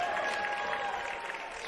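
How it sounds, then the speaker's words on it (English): A basketball crowd at a varsity high school game applauds and cheers, a fairly faint, steady wash of clapping and voices with a couple of sustained whistle-like tones. "Scott's crowd is fired up."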